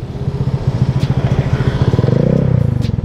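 Honda Vario 150 scooter ridden on a rough road in Bogor, its engine droning steadily up close with a pulsing low throb that builds slightly as it accelerates, plus light rattling from the bumpy surface.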